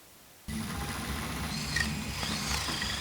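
Power drills run in a television drama scene, a continuous loud mechanical whir that starts abruptly after half a second and holds steady with faint higher whines over it.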